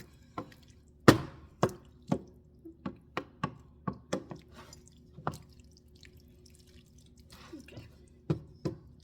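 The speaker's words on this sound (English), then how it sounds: "I want to make sure I'm stirring all that flour out." Spoon working flour into a thickening sauce in a pot, giving a series of irregular soft clicks and taps against the pan, fairly close and quiet, with no talking over them.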